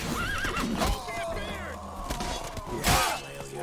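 A horse in The Witcher 3: Blood and Wine whinnies loudly, its neigh rising over brief hoofbeats, with battle noise and shouting game voices mixed in around it.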